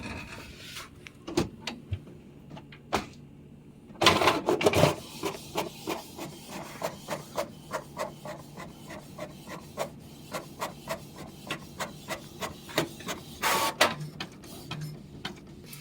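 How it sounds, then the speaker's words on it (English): An inkjet-style printer runs a print job for a DIY jewelry holder with a logo, giving repeated rhythmic mechanical clicks and whirs of the carriage moving back and forth, fairly close and steady, with a louder burst of feed noise near the start. "So they're printing."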